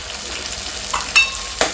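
Tomato and chili sizzling and frying in a pan with garlic, a steady soft crackle with a few louder stirring clatters near the end.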